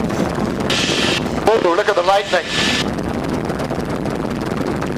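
A helicopter flies near a volcanic ash and steam plume in a strong northerly wind. Its rotor and engine make a loud, steady roar throughout, buffeted by wind against the microphone, while a voice speaks briefly over it.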